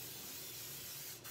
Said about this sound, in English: Okay, so now we're going to spray. Just spray really well.